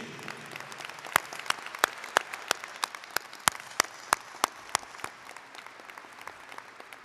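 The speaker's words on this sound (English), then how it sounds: "How about another round of applause for Dr. Beasley?" Sparse applause at a university graduation ceremony, with distinct sharp claps standing out over a softer patter of hands, steady and moderately distant.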